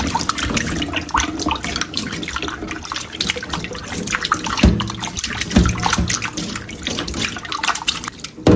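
Conch meat being washed under running tap water, a steady close splashing stream with irregular spatters and drips as the meat is handled beneath it.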